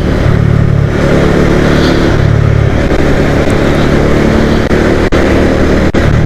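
A motorcycle rides through light road traffic, its engine a loud, steady close drone with rumbling wind buffeting and small shifts in pitch. No one speaks.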